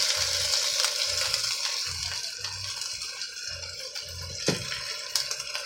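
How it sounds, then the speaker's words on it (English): Boneless pork ribs laid into a buttered pan, a bright steady sizzle with hissing spatter, a low thumping rhythm underneath and a sharp knock near the end, no one speaking. "it's time to get this meat onto our buttered pan"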